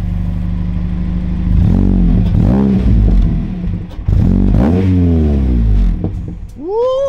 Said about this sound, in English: Just a few light revs.